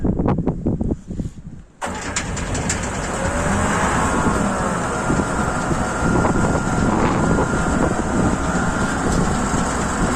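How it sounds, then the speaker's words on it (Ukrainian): A John Deere 1065 combine harvester starting on a cold morning at minus one degree: a few brief cranking knocks, then a short pause before the engine catches and settles into a loud, steady running roar with wind buffeting the microphone. "як заводиться комбайн"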